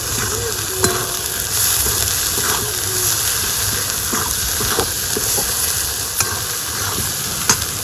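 Chopped tomato goes into sizzling spices with salt and turmeric for a new-potato aloo dum, a steady loud frying hiss broken by scattered scraping knocks of a spoon stirring the pan.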